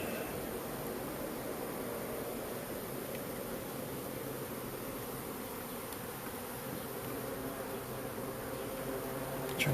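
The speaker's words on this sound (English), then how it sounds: "Trying to figure out places to put all these bees." A swarm of honeybees fills the air with a continuous, even buzzing hum, dense and steady from start to finish with no voices over it.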